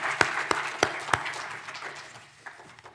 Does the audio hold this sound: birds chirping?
no